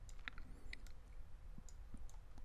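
Computer mouse clicks while working in Unreal Engine's blueprint editor, several short sharp taps spread over a steady quiet background.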